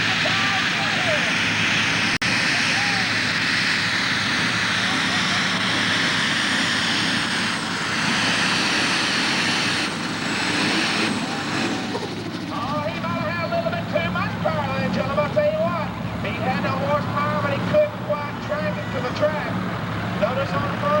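A John Deere super stock tractor in the 5,500 to 7,500 lb class pulls at an outdoor tractor pull, its engine roaring loud and continuous under an announcer's commentary.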